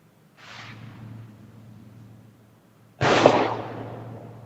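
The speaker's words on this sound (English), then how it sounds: "if you just heard a bang, yes, that was a pistol" A faint distant pop followed a few seconds later by a single sharp, loud pistol gunshot with a short fading echo over a low hum.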